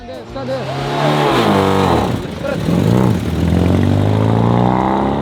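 A London taxi accelerates hard from the start in third gear on a timed hot lap, its engine note climbing loud and close beneath someone talking over it.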